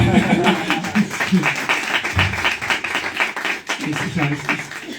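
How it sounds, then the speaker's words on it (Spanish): An audience at a book talk breaks into applause, a bright, sustained patter of many hands clapping, with light laughter and voices mixed in beneath it. "podéis aplaudir"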